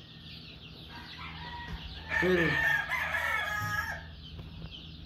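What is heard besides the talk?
chickens and roosters on a farm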